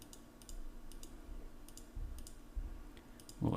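A computer mouse clicks several times in quick, sharp, faint taps at irregular intervals over a quiet room background, ending in a brief louder thump.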